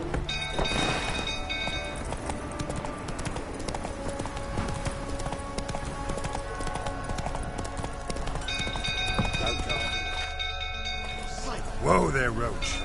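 Roach the horse from The Witcher 3: Wild Hunt galloping, with a steady rhythmic clip-clop of hooves close by for the whole stretch, under in-game speech and music, slowing near the end.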